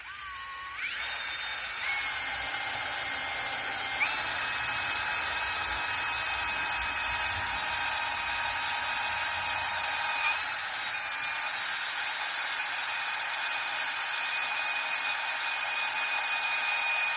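A power drill whirs continuously at high speed while a door is fitted to a Peugeot 505, its pitch shifting a few times as it runs steadily and loudly close by.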